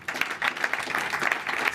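Audience at a startup demo day in an event hall claps for a jury member, a moderate, fairly steady patter of many hands lasting under two seconds.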